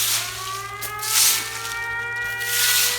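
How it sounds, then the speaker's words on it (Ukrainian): An air raid siren alert sounds outdoors in a garden during autumn leaf-sweeping in Ukraine, a wavering wailing tone that rises and falls continuously at moderate distance. "Увага! Повітряна тривога. Пройдіть найближче укриття."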